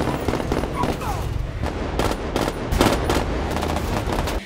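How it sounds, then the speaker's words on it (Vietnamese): Continuous automatic gunfire in a crime film shootout with police, rapid loud bursts of shots layered over a dense, booming action-scene mix, close and relentless throughout. "Tony lấy súng ra bắn liên tục, hỏa lực mạnh mẽ khiến cảnh sát không dám đến gần."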